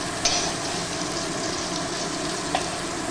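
Potatoes fry lightly in a pan for a Bengali pabda fish curry, giving a steady, soft sizzle with a couple of faint clinks, close by and without talking.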